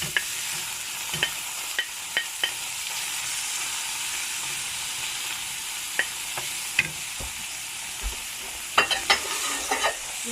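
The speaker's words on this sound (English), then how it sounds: "So we just want to brown the onions a little bit, and then throw in the liver." Onions browning in a hot pan with a steady sizzle and frying hiss throughout, broken by scattered sharp clicks and taps of a utensil stirring, loudest near the end; no talking.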